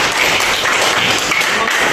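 Students in a classroom clapping for a classmate during an Islamic studies lesson, loud, dense applause close by throughout the short span.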